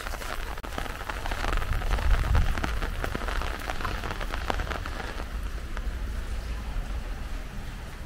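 Steady rain patters densely on a surface, with scattered louder drops over a constant hiss and a low background rumble.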